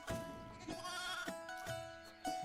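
A lamb bleats several times in short, wavering cries spaced through the moment, fairly close and clear with no talk over it.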